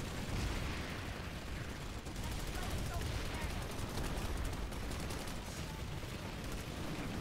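Artemis automatic scout rifle gunfire in PlanetSide 2 keeps up a dense, steady clatter of rapid shots for the whole stretch, loud and unbroken against a noisy battlefield backdrop.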